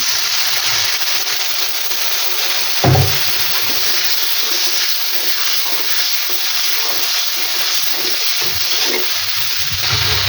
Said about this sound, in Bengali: সামান্য পরিমাণ পানি দিয়ে দিলাম